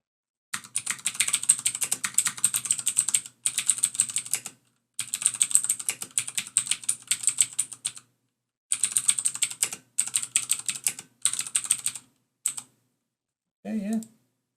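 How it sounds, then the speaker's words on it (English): Rapid clicky typing on a HyperX Alloy FPS mechanical keyboard, close and loud in several bursts separated by short pauses, with a brief voice at the end. "a little typing test because this is I think like one of the most clickiest"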